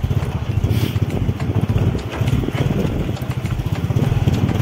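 Motorcycle being ridden along a road near a river, its engine chugging in a steady low rhythm throughout, close and continuous with some wind.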